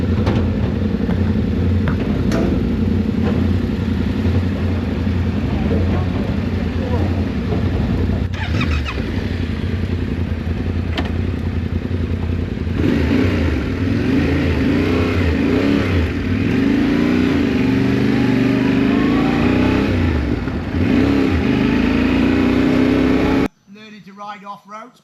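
A Yamaha Tenere motorcycle rides off-road in the Welsh mountains, its engine droning loud and close with repeated revs and throttle swells for most of the ride before cutting off near the end.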